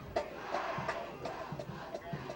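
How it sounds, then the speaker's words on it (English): Mustang home crowd at a 1998 high school football game between Portage Central and Portage Northern, cheering and yelling from the stands in a steady, moderately distant roar with bursts of shouts. "So you can hear the Mustang crowd."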